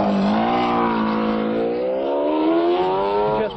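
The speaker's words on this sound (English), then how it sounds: "Just warming the car up now, getting heat into the tyres, brakes, also into the gearbox, into the transmission." A McLaren F1 GTR #02R race car warms up its engine during tyre testing, giving a steady, loud engine drone whose pitch climbs gradually as it revs, with no speech.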